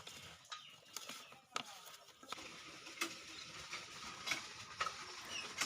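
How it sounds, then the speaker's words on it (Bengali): Moong dal is dry-fried and stirred in a pan, heard as faint intermittent scrapes and clicks of a spoon over a quiet, light sizzle, close but low in level, without speech. "মা প্রথমেই আগে মুগ ডালটা ভালো করে ভেজে নিচ্ছে"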